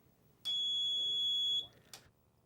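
Electric alarm fitted to a traditional wooden-frame ice-fishing tip-up, triggered when the flag trips: a single shrill, steady electronic beep lasting about a second, loud and close, followed by a brief click.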